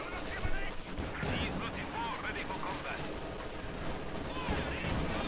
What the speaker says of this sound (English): I'm going to throw an anti-tank grenade on him, and I'm going to let this incendiary barrage kill the pack